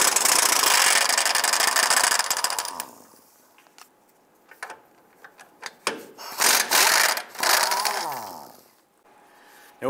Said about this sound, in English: there are two 15 millimeter nuts going to that transmission mount. Let's go ahead, loosen and remove those.